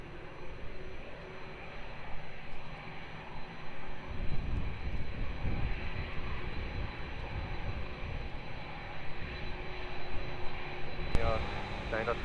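Jet airplane on runway 02 at Lisbon Airport, a continuous distant engine roar that swells slightly in the second half, heard steadily throughout.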